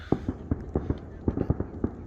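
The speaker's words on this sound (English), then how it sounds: "More fireworks downtown." Fireworks bursting in the distance over downtown Cusco, Peru, heard from the Saqsaywaman ruins: a quick series of about ten dull pops in an uneven rhythm, faint and far off in a quiet outdoor setting.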